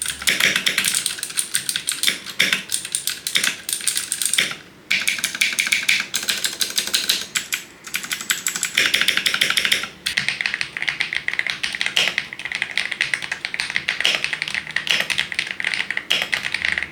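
Mechanical keyboard typing on an Mchose X75 with linear switches and foam and silicone dampening inside, dense rapid clacks in continuous bursts close up, broken by a few brief pauses, no talking.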